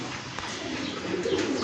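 Very active pigeons coo nearby in a loft, soft throaty burbling under a busy background with a few brighter calls toward the end.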